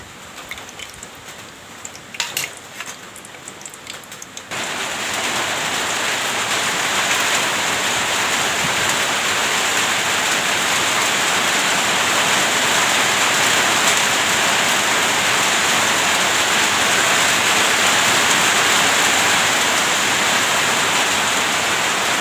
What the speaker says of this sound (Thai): ได้ยินเสียงฝนไหมคะตกใจเลย